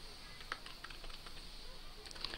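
Light, quiet typing on a computer keyboard during a MySQL coding session, a short run of scattered soft key clicks with a couple of sharper taps, no voices.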